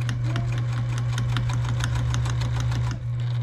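A sewing machine with a dull needle stitches steadily, a fast, even mechanical clatter with a constant motor hum running throughout.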